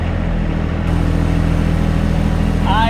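A John Deere 1025R compact tractor engine idles at low RPM in low gear, giving a steady, close mechanical drone with an even rumble that holds throughout and a brief squeak near the end.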